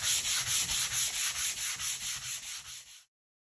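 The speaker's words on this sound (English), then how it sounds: "So now we have been sanding with a grit 120" Steady back-and-forth sanding of wood with 120-grit sandpaper along the grain, a rhythmic scratchy rub repeating about twice per second for three seconds, close by, then stopping abruptly.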